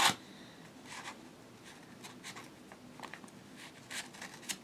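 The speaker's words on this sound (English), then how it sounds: "I probably should have my scissors out so I can open this envelope" An envelope is worked open by hand without scissors, a sharp tear at the start followed by scattered scratchy paper rustles and crinkles, faint and close.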